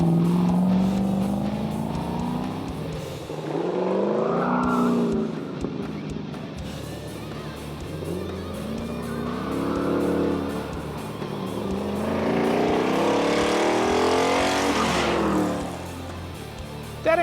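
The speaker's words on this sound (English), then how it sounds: "He takes a couple of spins to get the feel for what the car is doing." A 1970 Dodge Challenger driven around a race course, its engine revving up and down in repeated rising and falling sweeps as it accelerates and passes, loud and continuous throughout.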